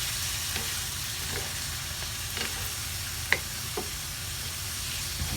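Native chicken from Japan sizzles as it cooks in a pan, a steady loud frying hiss throughout, with a few faint taps and one sharper clink partway through, no voices.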